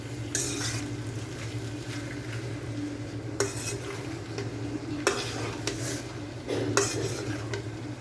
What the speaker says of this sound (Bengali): বাবুদেরকে একটু পাস্তা রান্না করে দিচ্ছি আজকে দুপুরে